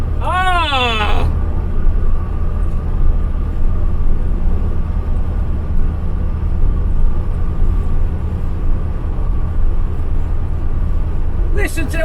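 A Ford Cortina MK3 with a Pinto engine and A4LD automatic gearbox cruises in the fast lane, a steady low engine and road drone throughout, with a brief burst of other sound at the very start and end.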